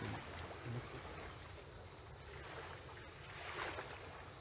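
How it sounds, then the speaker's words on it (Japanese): Sea waves at Itoshima, calm-looking but slightly rougher than usual, come across as a faint, distant wash of surf with gentle swells and a windy undertone, without talking. "糸島の今日の海でございます。 まあ穏やかそうに見えますが、ちょっといつもよりも波がありますよね。"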